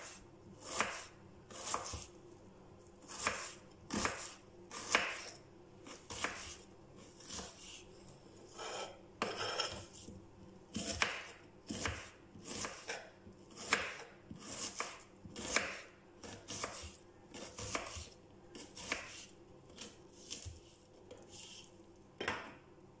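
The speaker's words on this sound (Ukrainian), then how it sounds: "ми наріжемо цибулю. Ріжемо на 4 частинки." A knife chops an onion into quarters on a cutting board for stewed hake with carrots and onions, giving steady repeated sharp cuts at close range with no talking.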